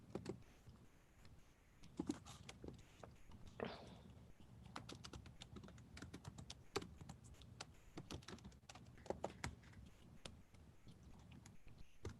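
Fingers tap on a sticky computer keyboard, giving a quiet, irregular run of sharp clicks and clacks that carries on without a break for the full stretch.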